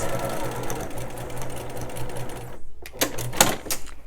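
A sewing machine stitches quilt block pieces for a fall harvest quilt, running in a steady close buzz for about two and a half seconds before stopping, then a few light clicks and handling sounds follow.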